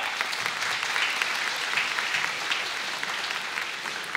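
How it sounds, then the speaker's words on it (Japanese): Sustained, dense applause from the crowd at a professional kickboxing event after a knockout win in a 54 kg bout, even and continuous throughout. "今一度盛大な拍手をお送りください。"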